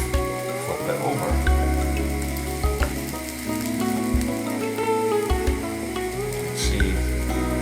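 A two-egg omelette cooks in a hot pan with a steady close sizzle, joined by several spatula scrapes and knocks and a low rumbling hum underneath, with no talking.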